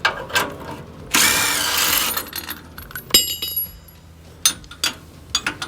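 A ratchet wrench loosens the tow hook bolts under a 2022 Toyota Tundra during an AFE Power tow hook install: close metallic clicks and clinks, with one louder stretch of rapid ratcheting.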